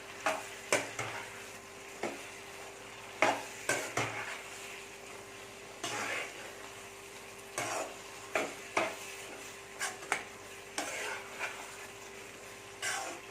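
A spoon stirring prawn masala for prawn biryani in a pan: repeated scraping strokes in irregular bursts over a faint steady sizzle, close and moderately quiet, with no talking.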